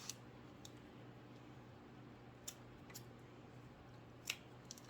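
Quiet scissors snip the edges of a handmade fall craft with a few sharp, scattered cuts over a low steady hum, and no one speaks.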